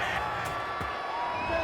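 A disapproving stadium crowd in a football video game simulation, a steady dense roar of massed voices with faint whoops and murmurs swelling throughout the short stretch.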